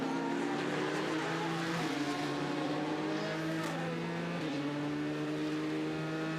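A Ford race car at Le Mans drones steadily while being overtaken, layered engine tones shifting pitch as the cars pass, heard continuously and fairly loud.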